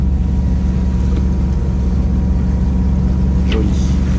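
A sailboat motors through windless conditions near an anchorage, its engine putting out a steady, loud, low drone that never changes, with a faint voice surfacing briefly near the end.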